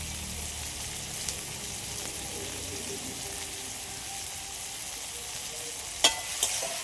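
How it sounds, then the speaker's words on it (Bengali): Onion and tomato frying in a pan with salt, a steady soft sizzle running throughout, with a brief sharp clink or scrape near the end. "পেঁয়াজ আর টমেটোটা ভালো করে ভেজে নিয়েছি।"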